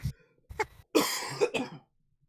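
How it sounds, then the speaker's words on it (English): A few rough throat-clearing bursts, close and fairly loud, one short hack followed by a longer raspy clearing, then quiet. "clear your fucking throat"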